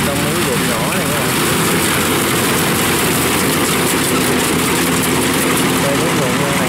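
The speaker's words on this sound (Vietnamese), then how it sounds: "mình chia sẻ cái máy TC105X để cắt trong mấy ruộng nhỏ này các bạn" A TC105X rice combine harvester works small paddy fields in the summer-autumn rice harvest, its engine a loud, steady, close drone with a constant mechanical whine that holds unbroken throughout.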